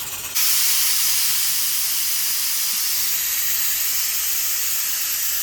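Pressure cookers boiling lentils and mutton on a stove release a loud, continuous steam hiss that starts abruptly and holds steady without talk.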